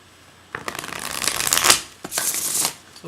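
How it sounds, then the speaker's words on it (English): Tarot cards shuffled by hand in a close, quiet room during a reading, starting after a short silence as a run of crisp riffling flutters, a brief pause, then another burst of papery shuffling. "Here, I'll let you see the shuffling."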